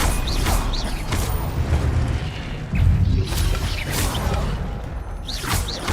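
Stupefy spell cast in the Hogwarts Legacy video game: a cluster of whooshing magical bursts, low booms and creaking mechanical effects, several quick hits in a row with no talk.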